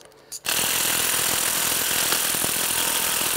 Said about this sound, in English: once you break them loose, usually you can get the impact to work.